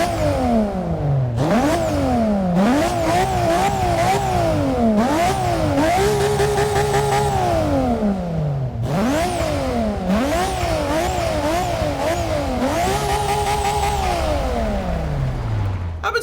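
The 2.6 litre twin-turbo inline-six of a Nissan Skyline GT-R R34 in Forza 6 revs repeatedly, each rise climbing to a high howl and then dropping back, loud and continuous throughout.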